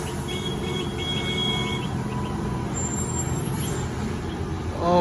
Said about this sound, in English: I love the sound of the tires.